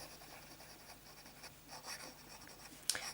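Fountain pen with a fine nib writing on paper, filled with document blue ink, giving a faint, close scratching with short rhythmic strokes and small pauses, heard alone.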